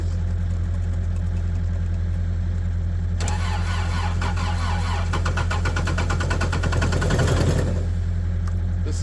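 Diesel machine with manual glow plugs cranking and starting over a steady low hum, with a few seconds of rough, rattling engine noise before it cuts back down.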